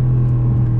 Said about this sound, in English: The engine accelerates so quickly, you gotta be on it to know when to shift.